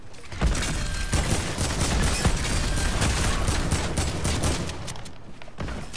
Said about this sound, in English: I'm going to shoot at the top.